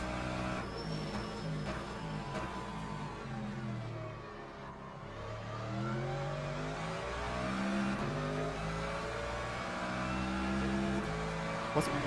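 A McLaren race car roars through a lap of Le Mans Ultimate, its engine note rising and falling steadily through gear changes with the tone of other cars nearby, loud and continuous throughout.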